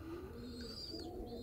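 Pigeons give soft, low cooing calls in a steady outdoor hush, faint and close together over a moment.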